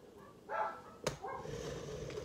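Dogs barking indoors from another room, a couple of short muffled barks and yips, fairly faint.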